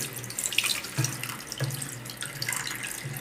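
Kitchen tap water running into a sink while leaves are washed, a steady close splashing stream with occasional knocks and drips, no talking.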